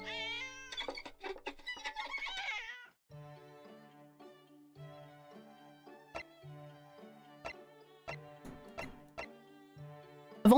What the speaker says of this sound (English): Sounds of cat getting caught up in violin strings.